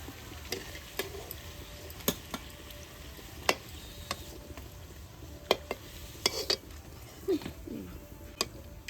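Snack chops fry in a pan with a constant low sizzle, broken by sharp, irregular crackles and ticking pops spread across the whole stretch.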